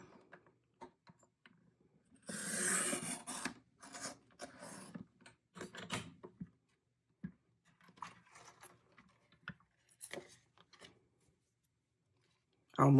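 A paper frame is cut on a WRMK Frame Punch Board, giving a short burst of rasping, ratcheting mechanism noise followed by scattered clicks and handling taps at close range, with a person talking intermittently.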